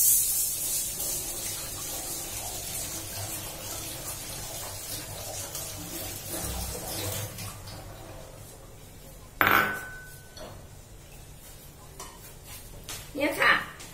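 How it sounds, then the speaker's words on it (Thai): Sago pearls are rinsed in water in a kitchen while making a Thai coconut sago dessert, with a splashing, running-water wash for several seconds followed by quieter handling, then sharp clinks of a bowl or utensil near the end. "สาคูเราต้องเอาไปล้างก่อนใส่นะ"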